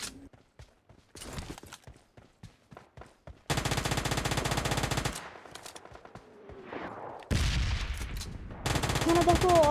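PUBG Mobile Lite gunfire: rapid single shots in a quick rhythm, then sustained loud automatic bursts with gaps between them, close and sharp, no talking.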